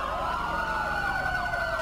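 Ambulance siren in the GTA 5 video game, a loud wailing tone sweeping up and down continuously, close and prominent over a faint engine rumble.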